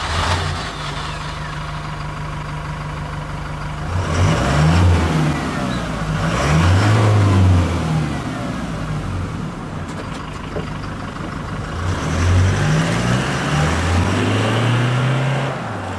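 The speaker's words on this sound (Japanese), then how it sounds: "ガナドールマフラー中速。" Exhaust note of a Toyota Hilux GUN125 fitted with a Ganador aftermarket muffler at mid speed, a low engine hum swelling through repeated rev pulls and easing off, near and prominent, without any voices.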